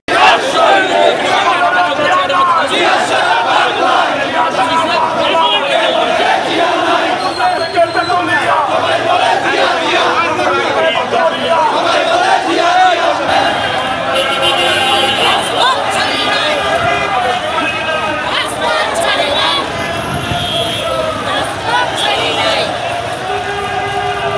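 A crowd at a BNP protest march in Dhaka fills the air with loud, continuous chanting and shouting voices that swell and overlap for the whole stretch.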